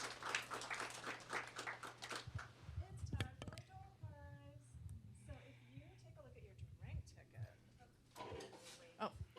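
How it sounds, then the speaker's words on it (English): Brief, scattered clapping from a small audience at the Vue Vixens Day 2020 event fades quickly into quiet room chatter and voices. "Applause for Sarah Drasna."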